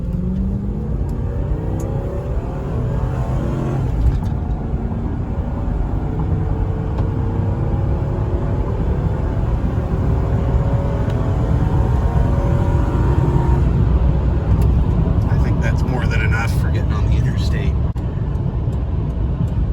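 A 2009 Lincoln Town Car Signature Limited accelerates smoothly, its engine note rising steadily with continuous power under a constant loud rumble of road and cabin noise, heard from inside the car.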